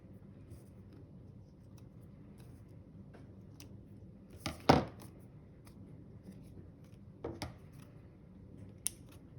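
Scissors snipping off fabric scraps during a patchwork craft project, a quick cluster of close, crisp cuts around the middle, then a couple of fainter snips later over a quiet room.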